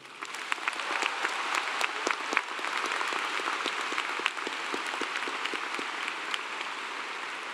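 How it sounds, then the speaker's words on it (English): A large commencement crowd at Clemson gives a loud round of applause after the national anthem is sung, the clapping swelling in quickly and then holding as a broad, continuous roar. "Will you also please give a big loud round of applause to Elena Yarborough for the great job she did singing the national anthem"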